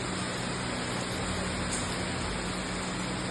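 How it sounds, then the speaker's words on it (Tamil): Steady, dense hiss of rain falling during a Diwali celebration at home, continuous and even throughout with no voices. "பாருங்க மழை வருது."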